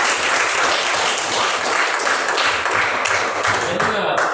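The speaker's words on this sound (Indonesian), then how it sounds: "Kita beri tepuk tangan untuk tempat teman kita." A roomful of people applaud together at a positive-culture school or training session, a loud, sustained wash of dense clapping that continues evenly throughout, with faint voices underneath.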